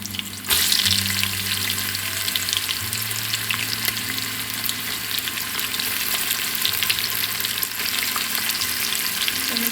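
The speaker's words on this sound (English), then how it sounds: "so I'm going to add in the onions" Onions tipped into a pot of cooked spices for a one-pot mutton curry, frying with a steady, loud sizzle and crackle that holds throughout, with occasional stirring scrapes.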